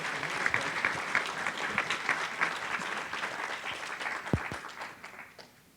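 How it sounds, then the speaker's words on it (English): An audience at a university gun forum gives a sustained round of applause, a dense crackle of many hands near and far that holds steady, then gradually fades out toward the end with a few stray claps. "Can we give a round of applause to these folks?"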